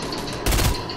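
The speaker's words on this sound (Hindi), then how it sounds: "फायर कर रहा है वो" A short, loud burst of gunfire in the battle royale game Fortnite, a single heavy blast rising over steady background game noise.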